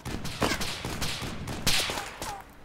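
Gunfire in the DayZ Mod survival shooter, a run of sharp reports, some single and some in quick pairs, fairly loud and close with short gaps between bursts.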